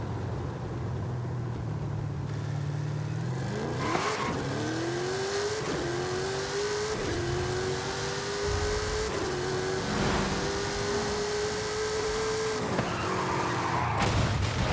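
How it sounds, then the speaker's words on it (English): A Jeep Trackhawk SUV in Forza Horizon 5, its engine revving and rising in pitch while the tires skid and squeal, broken by several impact thuds, with steady loud engine noise throughout. "You just crashed the Trackhawk."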